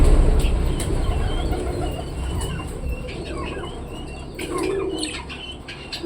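Caged pigeons, a brief flutter of wings at first, then soft cooing and light chirps close by over a rustling background.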